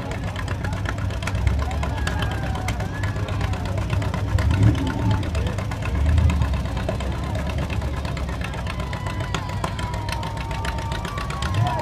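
A 1968 Chevrolet Camaro rolls past in a small-town parade, its V8 burbling at a low, steady idle throughout. A rough, rumbling drone carries under faint crowd background.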